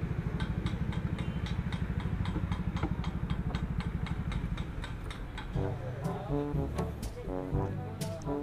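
Multicab with an F6A engine idling nearby in a fast, even putter that turns rougher and uneven partway through, with faint voices in the background.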